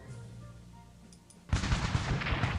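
Defensive artillery firing in the wargame Strategic Command, a sudden loud barrage of booming shots erupting after a quiet ambient stretch and rolling on as continuous rumbling fire.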